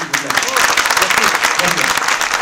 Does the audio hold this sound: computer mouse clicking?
no